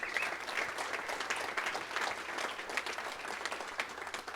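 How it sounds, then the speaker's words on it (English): Sustained applause from a live audience for a politician on stage at an Olympic gold event, steady dense clapping filling the whole stretch with no talk over it. "Is that strange getting clapped on stage for you?"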